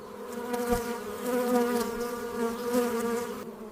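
Bees buzz steadily and close, a continuous droning hum that swells and fades slightly, with no voices over it.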